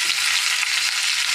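Cumin and ginger sizzle in hot oil in a pan, a steady bright crackling hiss of frying spices that fills the short stretch at even loudness with no voices.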